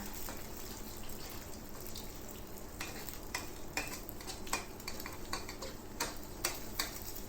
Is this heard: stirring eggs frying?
yes